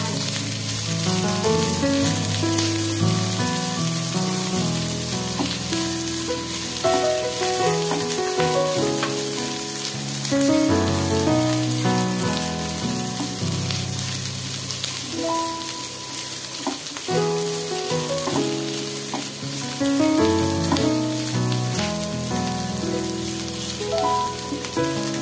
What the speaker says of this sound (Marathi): ठेवणार आहोत आपण भाज्या, जास्त शिजवणार नाहीये. सारखं हलवत राहायचंय आपल्याला.